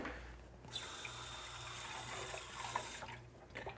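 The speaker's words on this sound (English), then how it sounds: "I just run a little bit of water in there" Tap water runs into a pan in a home kitchen while cooking achiote pork, a close, steady hissing splash lasting about two and a half seconds between quieter moments, with no talk over it.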